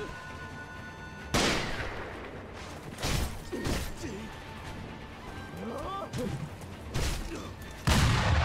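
Several loud gunshots from enemies in the video game Sekiro boom at irregular intervals with echoing tails, mixed with game effects and occasional speech in between.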